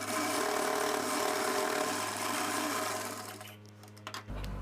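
A sewing machine runs steadily while stitching a blouse seam, a continuous close whir that slows and stops near the end with a few clicks.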